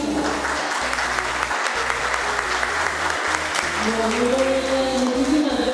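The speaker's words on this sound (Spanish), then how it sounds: "Vamos a recibir con un fuerte aplauso a la doctora Judith Maldonado Mojica." An audience at a political forum in Pamplona breaks into steady, sustained applause to welcome a speaker, with a voice briefly rising over the clapping near the end.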